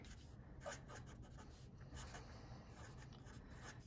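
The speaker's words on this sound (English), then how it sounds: "So let me write that down" Marker or chalk writing on a board during a classroom lecture, a steady scratchy rubbing with short strokes lasting several seconds, close and fairly quiet over a low room hum.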